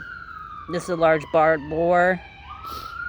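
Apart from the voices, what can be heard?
emergency vehicle sirens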